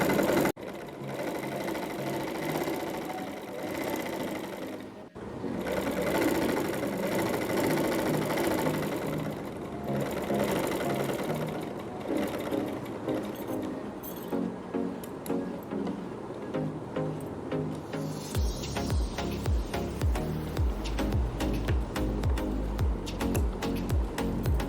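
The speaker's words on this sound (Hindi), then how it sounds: "अब ये इसके हमने किनारे किनारे पर सिलाई करनी है।" A sewing machine stitching along the edge of fabric while making tassels and dori, running steadily with a rapid mechanical whir, briefly stopping, then resuming with a faster, heavier clatter of the needle near the end.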